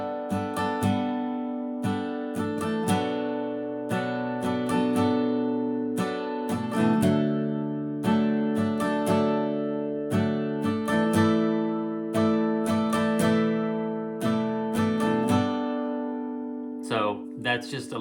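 Acoustic guitar strumming the pre-chorus chords of a song in a steady down-down-down-up pattern, each chord struck twice in clear rhythmic bursts, close and alone.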